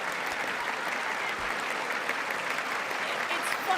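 A crowd of people claps their hands in steady, continuous applause, a dense even patter at moderate level lasting a few seconds with no pauses.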